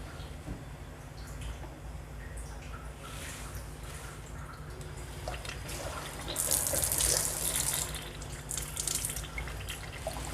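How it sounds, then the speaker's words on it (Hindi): Water flows steadily from a Kangen water ionizer machine in a continuous splashing stream that grows louder and brighter midway, with no talking. "ये मैंने इसको मशीन को ऑन किया है"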